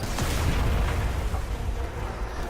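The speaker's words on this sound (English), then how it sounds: "this is exactly what we want to use the Scorch Cannon for" The Scorch Cannon fires and explodes in Destiny 2, a loud, dense rumbling blast that fills the whole moment with heavy booming noise, with no talking over it.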